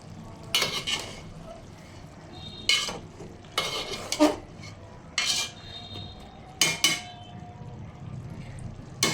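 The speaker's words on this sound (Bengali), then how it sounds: "মাংস কষাচ্ছি।" Meat stir-fried in a pot for biryani, with repeated scraping bursts from a spatula or spoon against the metal over a low sizzle, close and irregular in rhythm.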